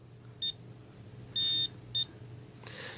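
A small electronic device with a button gives short, bright beeps after the button is pressed twice: a brief beep, a longer sustained tone, then another brief beep, fairly clear against a quiet background with a soft rustle at the end.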